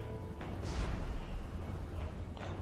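Gunfire and artillery blasts in the Total War: Warhammer 3 battle game, a few muffled distant booms and bursts over a low continuous rumble, heard faint and quiet.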